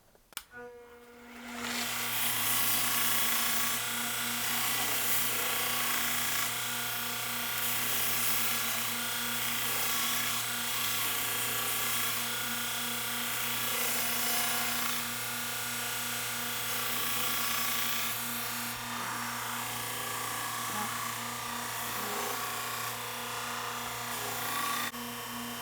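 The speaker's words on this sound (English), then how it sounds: "now we're back at the belt sander. I still got that same half wore out 150 grit belt in here" Belt sander running a half-worn 150 grit belt on the edges of a wooden machete scabbard, with a steady loud motor whine and grinding hum held for a long stretch after it spins up.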